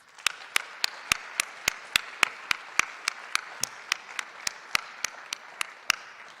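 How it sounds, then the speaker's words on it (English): An audience at a high school awards night for seniors applauds, a steady patter of many hands clapping in a loose rhythm at moderate volume with no talking. "Let's give them one more round of applause."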